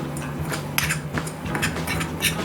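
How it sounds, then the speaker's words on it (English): A spoon stirs apple, rhubarb, raw sugar and cinnamon in a bowl, with soft repeated scrapes and light clinks against the bowl over a steady background hum. "and just mix it all in together"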